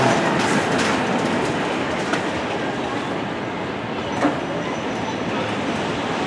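A mine train roller coaster, Runaway Mine Train at Six Flags Great Adventure, rumbling and rattling roughly along its track, steady clattering roar with a brief squeal, a voice faintly underneath.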